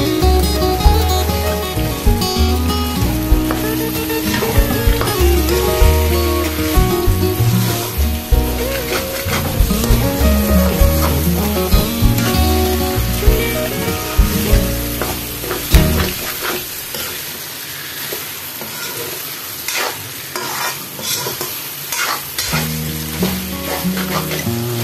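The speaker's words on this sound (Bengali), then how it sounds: "এবার সব একসাথে ভালো করে কষাবো।" Village-style desi chicken curry being sautéed in a pan, with a loud sustained sizzle and frequent scraping stirs running throughout, nearby and without speech, while background music plays through most of it.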